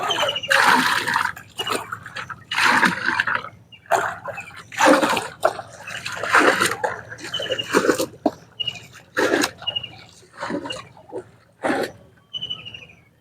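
Water splashes and sloshes in repeated bursts, loud and close, with brief pauses between pours.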